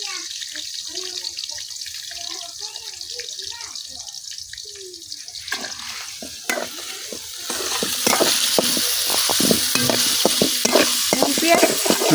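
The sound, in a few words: onions and green chilies frying in hot oil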